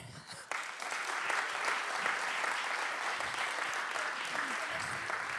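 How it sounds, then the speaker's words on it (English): A crowd at a design talks event applauds to welcome a speaker to the stage, a steady dense wash of clapping that begins abruptly and continues throughout. "Can I get a warm applause?"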